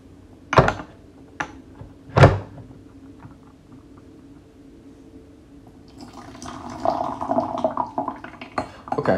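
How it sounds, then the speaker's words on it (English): Tea steeps from a 2007 Dayi 7542 and a 2007 8582 pu-erh are poured out, with two sharp clinks of ware on a tray followed by a soft, running trickle of liquid close by. "So we'll pour these steeps and then take a smell of both."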